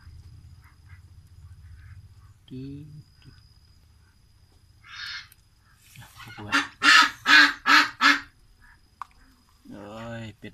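Farm ducks kept for breeding give a burst of loud, rhythmic nasal quacks and honks, up close, with someone speaking briefly before and after.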